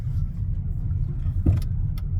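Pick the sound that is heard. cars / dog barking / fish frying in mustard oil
cars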